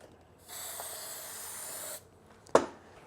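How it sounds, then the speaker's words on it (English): A steady aerosol silicone spray hisses for about a second and a half while working on a Honda TRX350TE Rancher ATV, then stops, followed by a single sharp click or knock. "We're going to give her a shot of some silicone spray."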